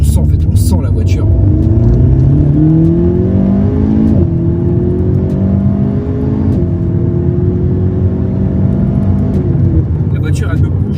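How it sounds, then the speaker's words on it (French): An Alpine A110R turbocharged sports car engine revs up through the gears on a circuit, its pitch rising and dropping at each shift, with turbo whoosh and intake roar over a constant drone. "On entend l'admission, on entend le turbo qui charge"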